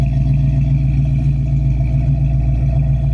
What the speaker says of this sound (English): It's got a nice sounding 289 in there with dual exhaust.